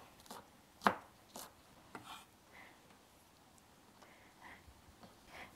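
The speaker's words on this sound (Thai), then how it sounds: "เราก็จะใส่กุยแช่ขาวลงไปนิดหน่อยพอให้หอม ๆไหนๆวันนี้เรามีเนาะเราก็หั่นใส่ลงไป" A knife chops garlic chives on a cutting board in a Chinese dumpling kitchen, a few sparse, close taps spread unevenly over several seconds, one sharper than the rest.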